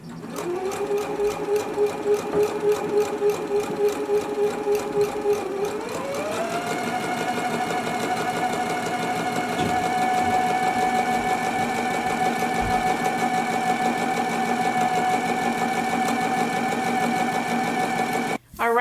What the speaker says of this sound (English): So let's go ahead and do our stay stitching now.